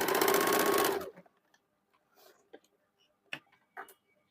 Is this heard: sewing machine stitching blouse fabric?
yes